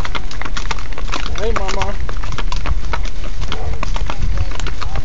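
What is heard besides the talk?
horse hooves clip-clopping during a horse ride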